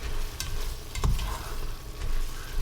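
Sausage fries in a pan with a steady close sizzle and a few scraping stirs, no voices.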